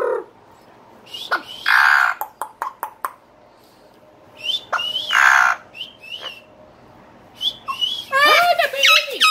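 A pet bird chirps and whistles in short sharp bursts and longer bright calls, with pauses between them and a final run of rapid trilling notes, close and fairly loud.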